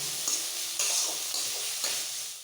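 Chopped ginger and green chilies sizzle in a pan for egg devil, a steady close hiss with a few sharp scrapes of a spatula as they are stirred, with no talking.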